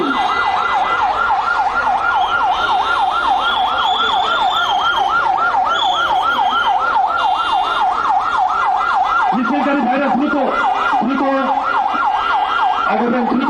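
An ambulance siren wails loudly and close by through a Dhaka street victory rally, cycling rapidly and without a break. A second, lower wailing tone joins near the end over traffic and crowd noise.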